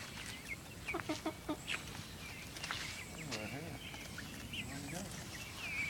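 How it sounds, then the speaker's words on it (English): Backyard chickens and a rooster eating cabbage, with a run of close, sharp clucks early on, then scattered squawks and calls amid rustling, a person talking faintly in the background. "There's Spike, the rooster, with a little cannibal."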